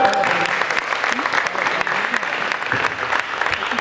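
Dense, steady applause from players at a basketball clinic, filling the space with continuous clapping at a fairly close distance that holds evenly for the whole stretch.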